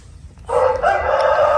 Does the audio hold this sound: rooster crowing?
yes